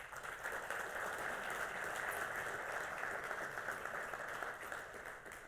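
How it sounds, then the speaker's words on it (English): Audience at a Nobel symposium in physiology and medicine giving a warm round of applause, an even wash of many hands clapping that holds steady and fairly soft from start to finish. "a warm round of applause"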